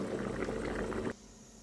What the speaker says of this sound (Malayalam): അതിലേക്ക് കഴുകി വെച്ച് അരി ഇടാൻ പോവുകയാണ്